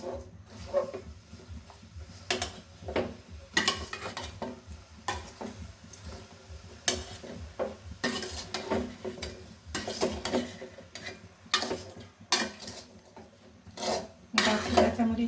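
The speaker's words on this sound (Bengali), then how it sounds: "ভালোভাবে একটু নেড়ে দিব যেন মশলাটা লায়ে পুরাটাই লেগে যায়" Spices being stirred in a cooking pan, with repeated scraping and clinking of a utensil against the metal at an uneven rhythm, close and fairly quiet over a faint low hum.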